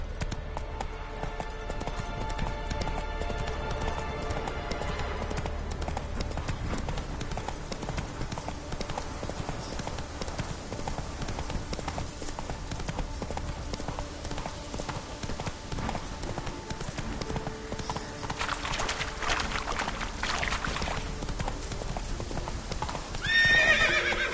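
Roach the horse in The Witcher 3 galloping, with rhythmic hoof clip-clop and a whinny, heard steadily over a low game ambience with no talk.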